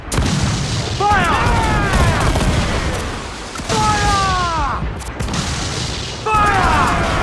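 Ship cannons fire in Assassin's Creed 4 Black Flag in three heavy booming volleys about every two and a half seconds, each trailed by whistling projectile sweeps, over a continuous din of battle.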